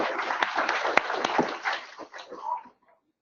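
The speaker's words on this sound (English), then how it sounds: "So I'd like to give her a round of applause," Applause at a NetSuite user group meeting, a few seconds of modest clapping from a small audience, fairly faint and tapering off to silence.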